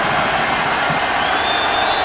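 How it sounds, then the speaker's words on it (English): A football stadium crowd at a Colts versus Redskins preseason game roars steadily, a loud, dense wall of cheering and whooping that stays even throughout, with a commentator speaking over it. "This crowd revving up."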